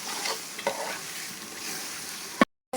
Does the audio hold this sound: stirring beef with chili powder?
yes